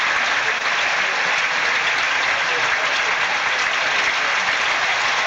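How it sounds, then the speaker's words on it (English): Tennis spectators at the 1996 French Open final between Steffi Graf and Arantxa Sanchez Vicario give a sustained ovation, dense and even applause from a large crowd filling the space without a break. "I'm glad the crowd giving her a big ovation"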